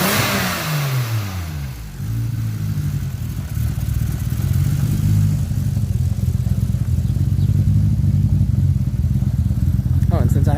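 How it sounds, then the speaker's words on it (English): A 2004-2007 Saturn Ion Red Line car engine with a repaired exhaust idles slightly unevenly, loud and close, a steady low burble with a dip and faint rev at the start, then a constant rumble. "Idle is still a little wonky, but that's okay."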